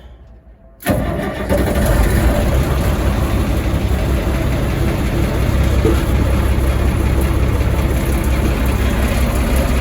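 A vehicle engine with an air brake system cranks and fires about a second in, then settles into a loud, steady idle that runs to the end.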